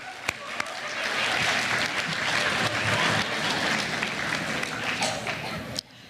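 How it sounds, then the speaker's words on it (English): A crowd applauding at a school awards event, loud dense clapping swelling quickly and holding for several seconds before cutting off abruptly, with some voices in the mix. "Let's give them one more round of applause."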